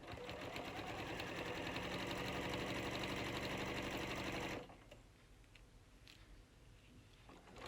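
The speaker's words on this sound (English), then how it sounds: "place it under your machine and using the usual 1/4 inch seam allowance, sew together from the top all the way down to the bottom" A home sewing machine runs fast and steady for several seconds, stitching a quarter-inch seam on a fabric gift basket, then stops abruptly, leaving quiet room noise and faint handling sounds.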